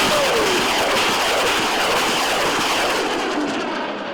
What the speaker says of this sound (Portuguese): Em demonstração do arsenal, teve disparos do foguete SS-9TS